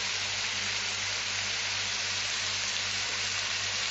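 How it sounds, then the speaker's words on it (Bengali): Cumin, coriander and Kashmiri chili powder sauté in a hot pan for a rice dish with bottle gourd peel, giving a steady, even sizzle and crackle throughout with no talking. "এগুলো দিয়ে একটু কষে নিচ্ছি"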